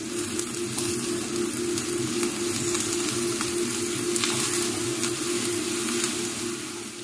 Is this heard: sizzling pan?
yes